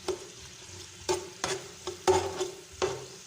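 Onions sizzle in a pan for Hadrami rice, with a steady soft hiss broken by about six distinct scraping strokes of a spoon stirring them, close and moderately quiet.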